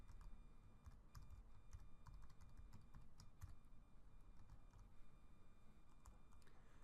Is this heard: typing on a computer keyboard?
yes